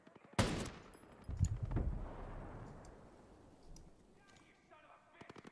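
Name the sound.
gunfire at the player in video game Ghost Recon Breakpoint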